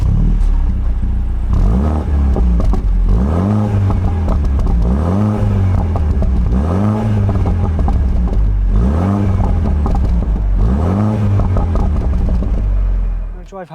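BMW Z4 roadster driving with the roof down, engine droning and rising and falling through repeated gear changes under steady road and wind rumble, loud and close, then cutting off at the end.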